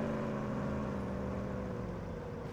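A loud, steady car engine drone in the video game Police Simulator: Patrol Officers, with a low hum and mid-range whir, constant throughout with no voices.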